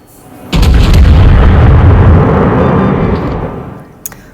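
Heavy main guns of the German battleship König fire a single booming salvo in a naval video game, a loud, deep blast that rumbles on for about three seconds before fading, with a small click just after.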